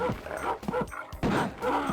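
A dog barks repeatedly in short, yappy bursts with whimpering yips between them, from dog mode in the Rise of the Triad shooter game, loud and close.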